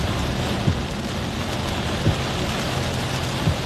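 Steady, dense rain pours down close by as a constant hiss, with a few dull low thumps at intervals underneath.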